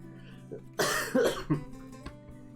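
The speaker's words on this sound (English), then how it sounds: "I feel like I'm about to cough at some point, so be prepared for that to happen at some point." A person at a microphone lets out a couple of close, harsh coughs and throat-clearing bursts, loud against an otherwise quiet room.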